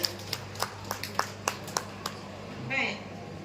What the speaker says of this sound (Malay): mohon ibu bapa beri satu tepukan yang gemuruh untuk pihak sekolah